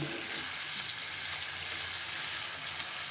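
Beef tripe bhuna with melting tomato fries in a pan, giving a constant bright, close sizzle with no talk.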